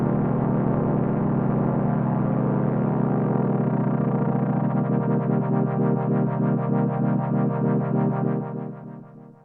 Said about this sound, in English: You can hear we got this really nice stereo effect there, and that's because we're in invert mode